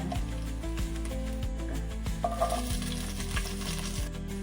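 Urad dal, dry cloves and cinnamon frying in oil for tomato rice, a steady close sizzle and crackle over a low hum, with light stirring clinks.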